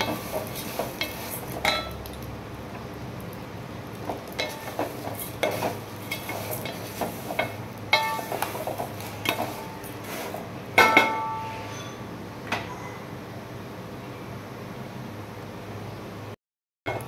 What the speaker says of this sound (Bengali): এবার সিমইটাকে দিয়ে একটু ভালো করে ভেজে নেব